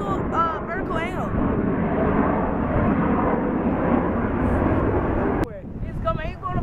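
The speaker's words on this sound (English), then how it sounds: "He's coming. He's going to fly right over us." An airliner jet approaching and passing overhead at Detroit Metropolitan Airport (DTW), a sustained loud broadband roar that swells and then cuts off abruptly, with people talking at the start and end.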